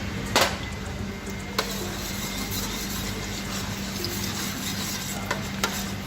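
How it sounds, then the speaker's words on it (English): Garlic frying in hot olive oil gives a steady, close sizzle throughout, with a few sharp clicks of a utensil stirring or tapping the pan. "We will not over fry the garlic"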